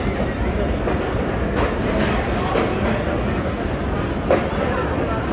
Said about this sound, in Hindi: इस ट्रेन पे 48 डाउन का रावलपिंडी में अराइवल हो रहा है